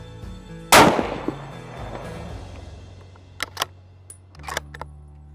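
A single loud rifle shot fired during hunting-style target practice, a sharp crack with a decaying rumble, followed by a few small clicks and handling noises afterward.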